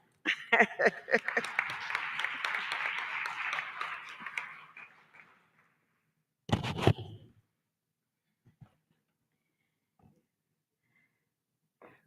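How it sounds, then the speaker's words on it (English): Applause from the audience at a subnational governments and cities summit, a round of clapping that swells and fades over about five seconds, followed by a loud bump or thud and a few faint scattered sounds in near silence. "Round of applause"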